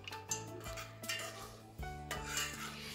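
A spoon scrapes and knocks against a pot of tender coconut payasam in repeated stirring strokes, close and fairly quiet, with a few sharper clinks spaced through the stirring.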